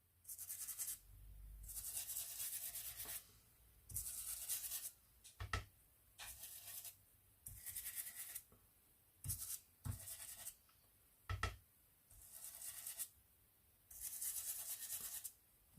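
Orange ink rubbed onto an autumn-themed craft card, soft close scrubbing strokes in repeated bursts of about a second or two, separated by brief pauses and a few light taps, with no talk.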